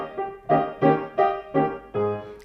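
A short piano phrase ornamented with an appoggiatura, in a Hungarian-flavored style: five crisp struck chords in quick succession, the last one held, close and unaccompanied.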